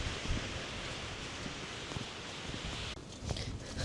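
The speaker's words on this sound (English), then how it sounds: "It's so windy, so I am not sure how well you can hear me." Wind blows steadily outdoors by a pond where a fence is being put up, a broad continuous rush with brief gusting buffets and a short dip near the end.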